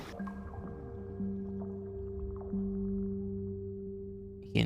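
Wet squelching and dripping from living water in an Attack on Titan anime scene, a soft steady liquid texture with a low sustained tone beneath and brief louder surges, ending in a short louder burst.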